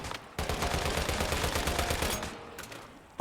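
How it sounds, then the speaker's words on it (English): Gunfire from a gun skin in the video game Once Human, with a guitar riff sounding on each shot, heard as a dense run of rapid shots that cuts in, sustains for about two seconds, and then trails off into a few scattered bursts. "It also has a little guitar noise when you shoot."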